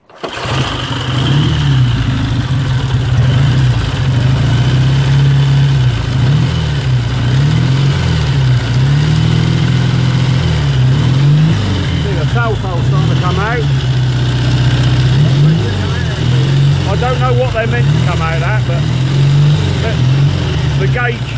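A 1954 Triumph 5T motorcycle with a Morgo oil pump runs close by in a steady, throbbing idle. The rhythmic low pulse holds throughout, and a muffled voice is heard faintly in the background.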